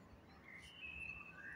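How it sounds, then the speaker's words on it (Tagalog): Small birds chirp and tweet in a garden in Italy near olive trees, with thin high calls and short whistled phrases over a steady faint background hum. "Ang hunihan ng mga ibon"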